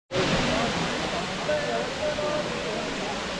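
Manthoka waterfall in Skardu roaring, a dense, loud, unbroken rush of falling water that fills the whole stretch without pause.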